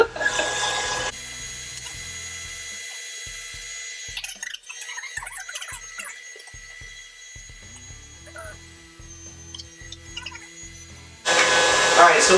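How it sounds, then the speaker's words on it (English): A kitchen grinder runs steadily, with loud bursts at the start and end, as raw eggs with their shells are processed into homemade cat food, and clicking and knocking sound over the motor hum. "what you can't see is that it's grinding out really nice in here"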